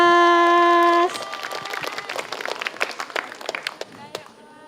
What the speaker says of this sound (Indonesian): Iya kita beri tepuk tangan yang meriah dong untuk Faas.